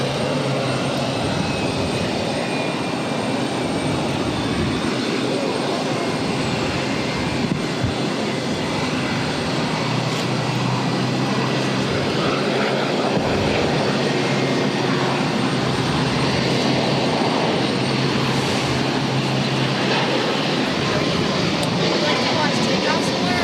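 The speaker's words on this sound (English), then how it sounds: "This is Frontier Flight 3001 taking off to San Juan" A Frontier Airbus A321neo jet airliner taking off from Boston Logan, bound for San Juan: a broad, steady engine roar that swells gradually and holds at a distance, with a voice speaking over it.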